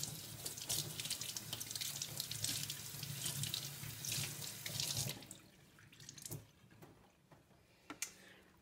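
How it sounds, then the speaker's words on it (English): Cold tap water rinsing fabric in a sink, a steady hissing flow for about five seconds before the faucet shuts off, leaving scattered drips and small clinks in a quiet room. "I'm going to rinse them with cold water and put in some dye."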